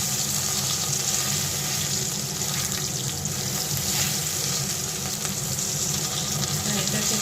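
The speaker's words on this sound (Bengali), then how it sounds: "হালকা করে ভেজে নিয়েছি" Boiled potato shallow-fries in hot oil in a pan, a steady, dense sizzle with a constant crackling hiss and no talking.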